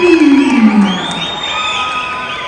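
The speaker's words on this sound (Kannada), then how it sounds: "ದಯವಿಟ್ಟು ನಮ್ಮೆಲ್ಲರ ಚಪ್ಪಾಳೆಯೊಂದಿಗೆ ಸ್ವಾಗತಿಸಿ" Crowd cheering and whooping at a film pre-release stage event as a Kannada music director is welcomed on stage, a dense wash of voices with one loud shout sliding down early on, holding steady to the end.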